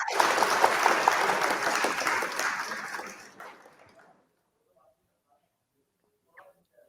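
Audience applause at an online awards ceremony, fairly loud and dense at first, then fading away over a few seconds into near silence with a faint stray sound near the end.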